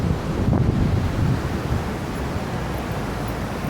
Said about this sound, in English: I love the sound of the water rushing by me